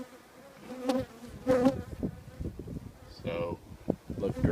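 Honeybees buzzing around a hive, a soft, uneven insect drone that swells and fades as bees pass near, with a few brief louder passes and faint background noise.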